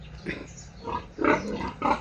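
A few low, rough grunts from sows at a piggery come in short bursts, close by, with a louder grunt near the end and no talking.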